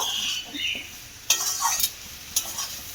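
A vegetarian soybean and potato curry with a little sugar is stirred in a pan: soft frying sizzle with a few sharp spoon scrapes against the pan, close and without talk.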